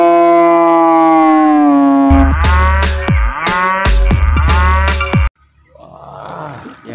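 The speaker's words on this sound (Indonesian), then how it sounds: "Wah, yang ini ada kerbau." A water buffalo gives a deep, drawn-out bellowing moo, loud and close, with a harmonic rumble that ends abruptly, followed by a brief softer rustle.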